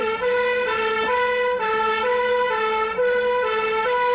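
A loud, close police car siren wails continuously in a two-tone pattern, alternating pitch about every half second, while the car speeds through the city of Bath.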